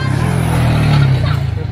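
A motor vehicle driven by children rolls along a street in Luang Prabang, Laos, its steady engine drone loud and close for a couple of seconds.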